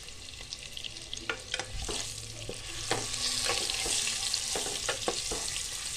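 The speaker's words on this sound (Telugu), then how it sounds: "ఒక పైన లేయర్ బ్రౌన్ కలర్లో వచ్చే వరకు ఫ్రై చేసుకుంటే సరిపోతుందండి ఎగ్స్ అనేవి." Boiled eggs fry in oil with salt, chili powder and turmeric, giving a continuous close sizzle with repeated sharp scrapes and taps of a spatula against the pan.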